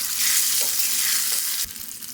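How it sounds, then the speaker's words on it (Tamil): Urad dal and curry leaves splutter in hot oil, a steady loud sizzle that carries on throughout, with a faint stir and a sudden drop in intensity near the end. "இது உளுந்து போட்டுக்கலாம் கருவேப்பிலை போட்டுக்கலாம் ஃப்ரெண்ட்ஸ் பொரிஞ்சிச்சு"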